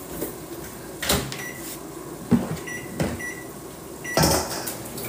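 A microwave oven in a home kitchen heating a dish of meat vermicelli, with a steady low hum running under several sharp knocks and clicks from the door and the dish being handled.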